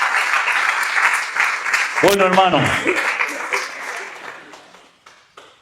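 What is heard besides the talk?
church congregation applause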